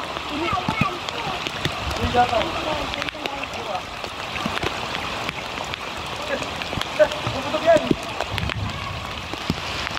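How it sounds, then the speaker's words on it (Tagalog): Cold rain falling at a water park resort, a steady dense patter on surfaces and water with scattered splashes, constant and fairly loud, with voices faintly mixed underneath. "Ang lamig na ulan."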